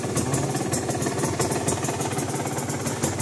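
A fully restored Honda NSR 150 SP motorcycle idles close by with a smooth, steady, evenly pulsing engine note and no talking.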